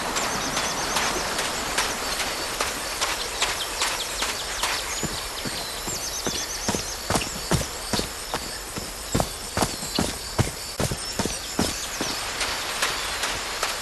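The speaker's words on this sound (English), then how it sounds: "Oh, what were these birds called? Lorikeets. Cole's lorikeets." Lorikeets in the game Call of the Sea chatter over a Polynesian-style pond, with shrill calls and rapid wing-flap-like clicks repeating in uneven bursts above a constant bright ambient wash, moderately loud and without talk.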